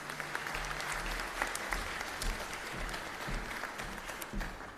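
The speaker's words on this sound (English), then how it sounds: "Big round of applause to the graduates" Sustained applause from a large crowd at a graduation ceremony, steady clapping throughout with a low hum underneath.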